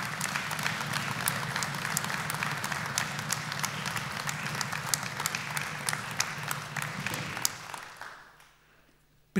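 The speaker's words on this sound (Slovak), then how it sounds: "poprosím obrovský veľký potlesk pani profesorka Mária" Sustained audience applause at a civic awards ceremony in Košice honouring city prize recipients, a full hall clapping steadily with crisp individual claps standing out, then fading to near silence near the end.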